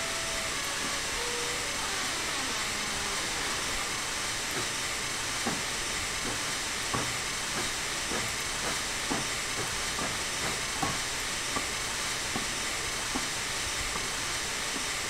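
A long train rolls along in Train Simulator, with a steady loud hiss of running noise carrying a regular series of faint clicks from wheels passing over rail joints.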